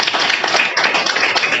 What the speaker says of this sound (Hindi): तो एक बार फिर से जोरदार तालियां।